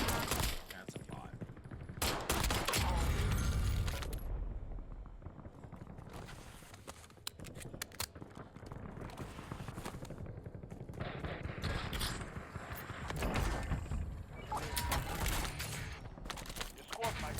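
Gunfire in the battle royale video game Call of Duty Warzone, with bursts of automatic fire and scattered single shots over about seventeen seconds, some loud and close and others more distant, over steady game ambience.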